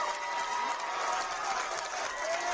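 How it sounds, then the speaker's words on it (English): A packed high school boys basketball gym, Carroll (Flora) Cougars at Clinton Prairie Gophers, fills with a steady wall of crowd cheering and applause, loud and sustained, with excited voices and shouts blended in. "it is deafening in here right now. The crowd into this one on this side of the gym"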